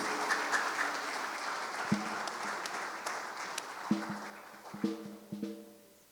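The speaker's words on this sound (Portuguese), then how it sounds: "Uma salva de palmas para Jesus" A church congregation breaks into scattered applause in a worship service, the clapping moderate and fairly distant, with several sharp swells and brief pauses while a sustained keyboard chord rings underneath.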